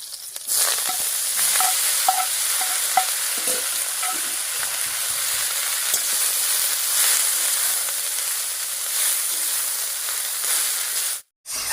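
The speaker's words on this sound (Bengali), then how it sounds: "ফোড়নের উপরে শাকটা দিয়ে একটু নাড়িয়ে নিলাম।" Tender mustard greens are tossed onto a garlic-and-chili tempering and stirred in a hot pan, giving a loud steady sizzle with occasional scraping and clinks, close and without speech, then a brief cut near the end.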